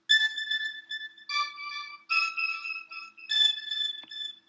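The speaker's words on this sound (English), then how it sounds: "These, especially these very high bells. Let's solo these out." High-pitched synth bells in a rap beat being arranged in Logic Pro X, soloed and ringing in short bright sustained chords with clean bell tones, heard alone without talk.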